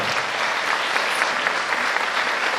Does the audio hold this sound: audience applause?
yes